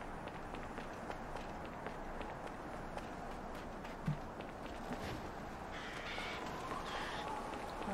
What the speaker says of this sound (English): There's lots of birds here.